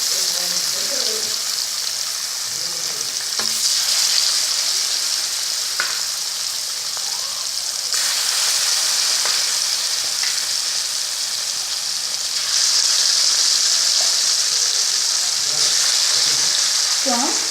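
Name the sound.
fish frying and sizzling in a pan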